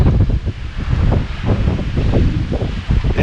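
Strong wind blowing at Pali Lookout on Oahu, a loud, steady roar buffeting the microphone with gusty low rumbles throughout.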